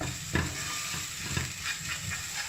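Green lentil noodle soup with black pepper and mint being stirred in a pot, a soft steady scraping and bubbling hiss with a couple of faint spoon knocks, close and quiet with no talk.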